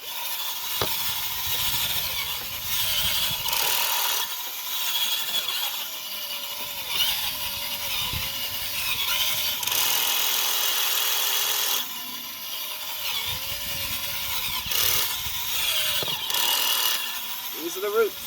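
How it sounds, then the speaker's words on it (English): A power auger drilling into soil while planting fruit trees in a deck container, bogging down and stalling as roots wrap around it; a steady grinding motor drone with uneven strain, partly under talk. "When your auger starts stalling like that, that means it's got some roots wrapping around it"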